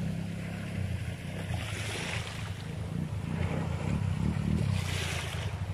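Waves break on the shore at Kefken at dusk, a continuous surging wash that swells and recedes, with wind buffeting the microphone and no talk.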